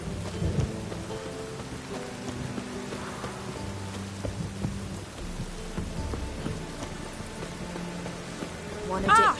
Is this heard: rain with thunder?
yes